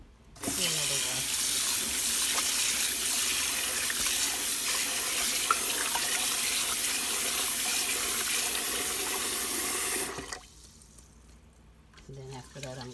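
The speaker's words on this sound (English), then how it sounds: "Gonna cook like 2 cups of rice for the rice and beans. That's the first wash." Tap water runs steadily into a sink as two cups of rice are washed for rice and beans, a loud close hiss lasting about ten seconds before it cuts off, followed by quieter handling sounds.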